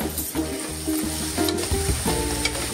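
Stuffed crabs are sautéed in hot tempering oil with ginger-garlic paste, giving a close, continuous sizzle broken by the scrape and clatter of stirring.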